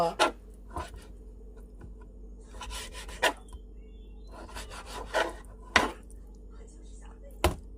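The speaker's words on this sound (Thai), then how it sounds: "นี่ป้าหั่นให้ดู" Knife blade chopping raw pork on a cutting board in sharp, irregular chops, several cuts spaced a second or so apart, over a low steady background hum.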